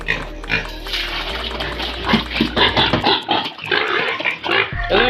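Pigs on an Assam pig farm squeal and grunt loudly at feeding time, many animals at once in a constant, overlapping chorus close to the listener, with water sloshing beneath.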